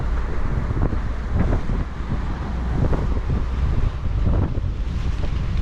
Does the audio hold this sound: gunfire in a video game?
no